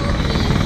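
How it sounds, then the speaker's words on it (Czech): Loud, steady rotor chop and turbine roar of a white, blue and red Czech Army search-and-rescue helicopter, close by and continuous, with no voices. "To je ten vrtulník vedle žlutého, bílo-modro-červený."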